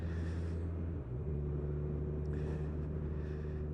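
Kawasaki Z1000 SX motorcycle, 2019 model, cruising at 30 mph around 2000 RPM in fifth or sixth gear: a steady low engine drone with wind rush, constant throughout without speech.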